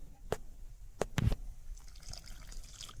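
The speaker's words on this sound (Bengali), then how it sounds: "এখানে গরম জল দিলাম" Hot water is poured into fuchka dough in a few short splashes and drips, fairly quiet, with soft handling sounds in between.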